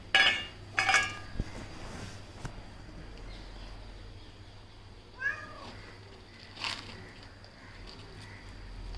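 A pet male cat meows beside his food bowl holding a cup of cat food, with two quick meows at the start and two more spaced out later, each close and clear, plus a faint clink of dishes.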